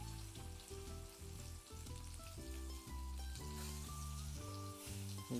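Eggplant slices fry in hot oil with a quiet, continuous sizzle, while sustained tonal music plays underneath.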